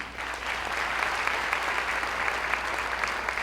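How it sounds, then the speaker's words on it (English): Sustained applause from an audience at a seniors' talent show in Chattanooga, steady and dense for the whole stretch, recorded at a moderate distance with no voices over it. "Keep that round of applause going for all 4 of our judges this evening."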